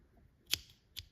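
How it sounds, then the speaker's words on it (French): Scissors snip through crochet yarn, two short sharp cuts about half a second apart, close and crisp against a quiet background. "Et je vais couper."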